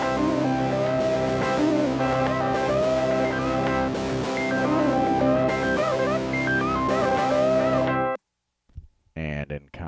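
A distorted, chorus-laden sampled chord in a music production plays as a dense, sustained wash that cuts off suddenly, followed by brief fragments of sound.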